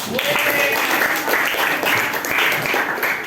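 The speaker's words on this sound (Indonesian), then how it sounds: "Tepuk tangan buat kawannya." A classroom of students claps together for a classmate, a lively continuous patter of many hands at close range, with some voices mixed in.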